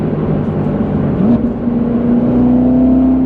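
A C7 Corvette Z06 with a 650-horsepower V8 accelerating hard, heard from inside as a loud continuous engine drone whose pitch climbs steadily through the gear, with no talk.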